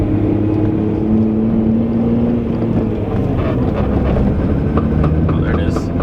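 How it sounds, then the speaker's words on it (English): Clutch noise from a Volkswagen MK3 VR6 while driving, a steady droning whine over continuous road and engine rumble inside the car, with some speech. "you can hear right now, clutch in, Sound goes away, clutch out"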